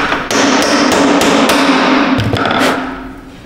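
A hammer strikes the crusty rear wheel bearing bolts of a Hyundai Santa Fe, a close, loud run of sharp metallic blows in quick succession that trails off at the end.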